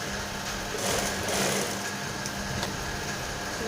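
A sewing machine runs steadily, stitching a folded garment edge close along the shoulder seam, a continuous close whirring hum with no talk.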